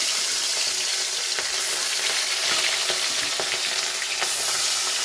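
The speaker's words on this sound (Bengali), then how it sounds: "মাছটা আমি ভেজে নিই।" Fish fries in hot oil in a Bengali kitchen, a dense continuous crackling sizzle held close and loud, with a few faint stirring taps underneath.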